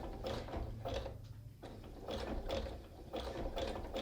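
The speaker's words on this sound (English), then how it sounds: "So I'm sewing right back over itself." A sewing machine stitches over coiled rope while forming an oval rope basket, giving quiet, rhythmic mechanical chattering bursts with short pauses between them.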